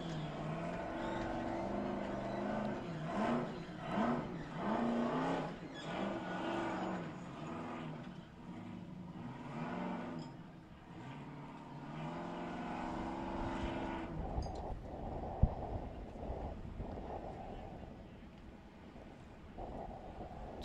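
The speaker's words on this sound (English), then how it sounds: "Just letting you listen to the engine on Shear's car as he heads up Sledgehammer." An off-road race car climbs the rocky Sledgehammer trail at the 2019 King of the Hammers. Its engine rises and falls in repeated revving surges, then settles into a rougher, lower rumble with a single sharp knock.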